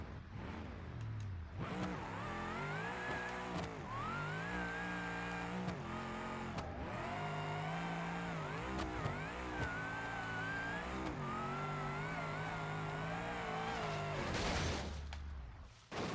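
A Gavril Vertex in BeamNG.drive, all-wheel drive, running NOS and making 1,001 horsepower, revs hard through repeated rising gear pulls. The loud, close engine note is sustained, with its wheels spinning and a final roar before it cuts off.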